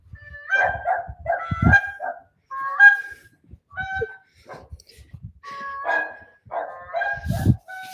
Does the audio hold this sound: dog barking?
yes